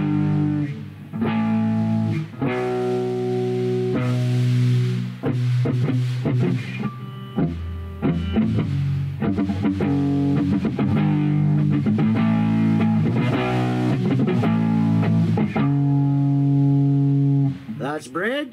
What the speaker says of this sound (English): let's hear what they sound like through a Tube Screamer distortion style pedal